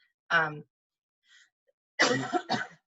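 A short cough, a faint breath, then two more harsh coughs in quick succession, close and fairly loud.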